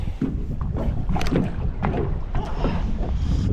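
Wind picking up beside a little-known river, the Hnylyi Tikych, during zander fishing. It makes a steady, gusty roar that buffets the microphone throughout, loud and close, with no clear talk.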